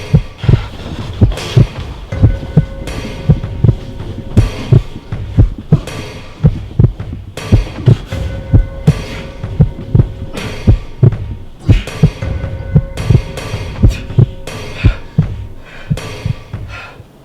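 Deep, throbbing heartbeat thuds land in steady paired beats over a low hum, loud and close, with no voices heard.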